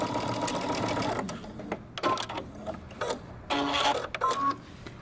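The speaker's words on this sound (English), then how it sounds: "I overlapped my elastic, and I'm just going to sew and back stitch a couple of times" A sewing machine stitches and back-stitches across overlapped elastic on homemade paper bag drop-crotch pants, running in steady bursts with brief pauses between passes, close and clear.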